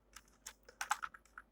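Computer keyboard typing while writing C code, a quick run of close, crisp key clicks in uneven bursts, with no voices.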